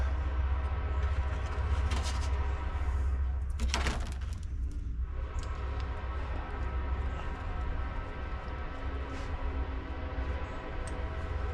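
A train passes close by, its loud low rumble steady throughout with a brief higher burst of wheel or horn noise near the start, heard outdoors during work on a Honda HRR216 push mower.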